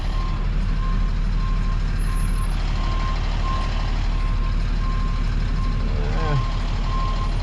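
A Caltrans truck emits a steady series of evenly spaced reversing beeps, loud and close, over a constant engine rumble and road noise, with faint voices in the background.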